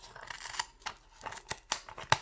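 Scissors cut a circle out of paper in a series of separate snips, irregularly spaced and close, with soft paper rustling in the gaps and no speech.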